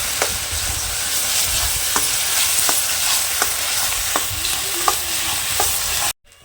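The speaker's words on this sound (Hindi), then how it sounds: "और इस करछी की मदद से घी के साथ अच्छे से मिक्स कर लेंगे और कम से कम 4 से 5 मिनट तक भून लेंगे कढ़ाई में।" Stinging nettle paste frying in ghee in a wok, a continuous close sizzle punctuated by regular scrapes of a ladle every second or so, ending abruptly.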